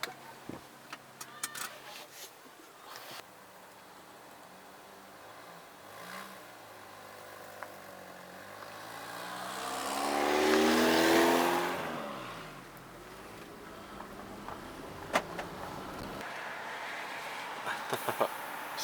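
A 1997 Geo Prizm car on a test drive, with a mid-pitched engine that rises in a clear acceleration swell, then settles into steady driving noise with scattered clicks and rattles.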